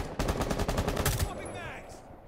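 Gunfire in the video game Rainbow Six Siege: a rapid burst of about a dozen sharp, loud shots fired in quick succession, then the sound trails off into a fading echo.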